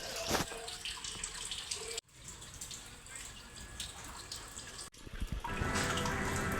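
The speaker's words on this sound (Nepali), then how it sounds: "यता पानी भरिँदैछ।" Water runs and splashes as a fish pond is filled, a continuous gushing flow with two short breaks and a brighter, stronger stream toward the end.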